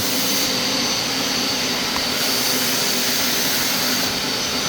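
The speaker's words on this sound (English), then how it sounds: "This is the Power Scrub XL by Hoover." A Hoover Power Scrub XL carpet cleaner runs with a loud, steady motor whine and airy rush, used to clean the fabric convertible top of an E85 BMW Z4.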